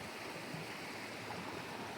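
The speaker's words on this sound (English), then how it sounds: "I think this is the White River" Flowing river water passes beneath a small bridge on a countryside hill walk near Mourne Park and Knockchree, a steady broadband rush close by with no voices.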